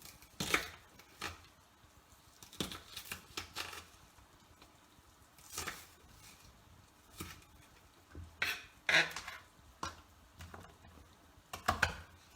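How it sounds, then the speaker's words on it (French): A knife finely dicing an onion on a cutting board while making quiche Lorraine, with irregular clusters of sharp, close taps and knocks on the board and short pauses between bursts, no talking. "Et je vais ciseler, comme toujours, mon oignon."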